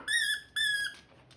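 A squeaker reed popped out of a dog toy and squeaked by mouth gives two loud, shrill, close squeaks in quick succession, then a fainter trailing one.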